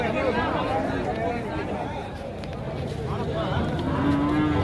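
Cattle at the Matrapalli cow market moo loudly and repeatedly over a dense bed of crowd chatter and livestock noise, with the calls close and overlapping.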